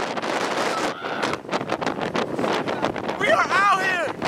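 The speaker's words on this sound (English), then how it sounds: "It's super cold, super windy." Heavy, cold wind buffets the microphone outdoors in New York with loud, rumbling gusts, while a person speaks intermittently through the roar.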